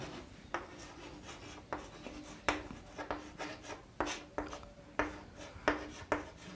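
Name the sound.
writing a point on a board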